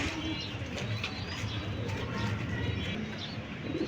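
High flyer pigeons coo in low, murmuring calls with a few light chirps, set in steady background noise with some human talk faintly underneath.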